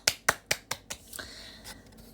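Hand claps or snaps from a livestreamer: five sharp, evenly spaced claps close to the mic, then quieter scattered clicks trailing off.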